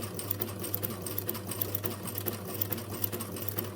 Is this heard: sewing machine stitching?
yes